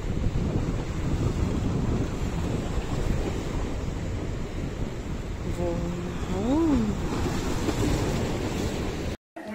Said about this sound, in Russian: Ветер стих, море немного успокаивается.